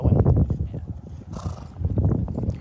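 A horse walking with a few dull hoof clops, close and moderately loud, mixed with low rustling and a faint murmur of people in the background.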